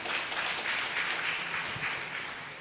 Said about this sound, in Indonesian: Tepuk tangan Bu Yoyo